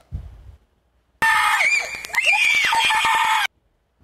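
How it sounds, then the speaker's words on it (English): Children let out a loud, piercing, sustained scream lasting about two seconds, broken by sharp crackles, after a brief low rumble and a pause. "A curdling scream for a couple of kids"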